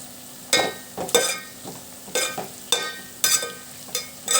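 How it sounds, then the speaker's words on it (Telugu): Onion pieces and crushed garlic frying in oil in a pan, with a soft sizzle punctuated by several distinct stirring scrapes at irregular intervals. "ఉల్లిపాయ ముక్కల్ని కూడా బాగా ఫ్రై చేసుకుందాం"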